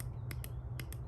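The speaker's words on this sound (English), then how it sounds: "what you wanna hear is an audible click when you press on this" A carbon paddle shifter on an A90 Supra gives a few short, sharp clicks when pressed, two pairs of crisp ticks over a steady low hum, close and fairly quiet.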